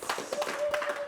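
Hands clapping in a small studio, a few sharp irregular claps heard close by over a steady tone and light room noise.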